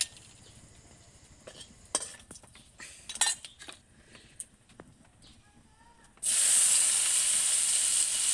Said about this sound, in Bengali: তেল গরম হয়ে উঠলেই শুকনো লঙ্কা ও এলাচ ফোড়ন দিয়ে দেব।